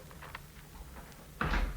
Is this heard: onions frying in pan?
no